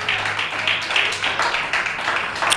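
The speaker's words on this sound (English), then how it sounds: "Somebody clap your hands right there" A church congregation claps its hands together in a steady, rhythmic pattern, the claps loud and close with no other sound standing out.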